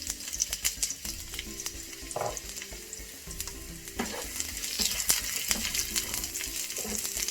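Onion rings fry in sesame oil in a wok, a lively close sizzle broken by sharp clicks and clatters of stirring that grow busier toward the end, with no voices.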